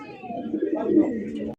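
A chila pigeon coos close by in a short, soft, throaty run lasting about a second and a half, with a voice talking over it.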